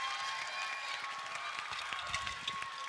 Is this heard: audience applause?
yes